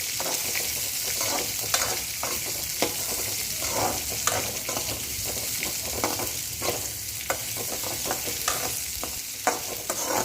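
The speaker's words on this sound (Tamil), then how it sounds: "ஒரு வெங்காயம் போட்டு நல்லா கிண்டி விடுங்க." Onion and crushed unpeeled garlic cloves sizzle steadily in a pan, with the spoon scraping and stirring in a loose irregular rhythm throughout, close and continuous with no talking.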